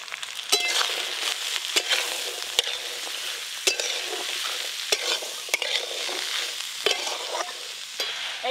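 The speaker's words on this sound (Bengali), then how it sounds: "এদিকে ভাজা হচ্ছে, হতে থাক।" Green beans and potatoes fry in a pan, a steady bright sizzle broken by sharp scraping stirs every second or so, close up with no voices.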